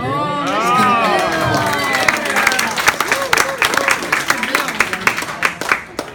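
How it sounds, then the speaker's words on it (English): Audience applause and cheering break out at a retirement celebration, building from a voice into dense, steady clapping from a sizable crowd that carries on for several seconds. "Let's give him a round of applause."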